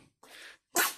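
A newborn baby girl gives a quick sneeze: a soft breathy intake followed by a sharp, louder burst, close and brief, with no talking during it.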